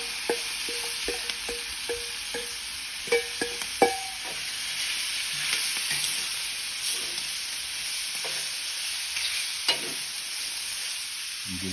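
A beef, prawn, vegetable and noodle stir fry sizzles steadily on a Weber barbecue, with an even hiss broken by scattered clicks and scraping taps from stirring utensils.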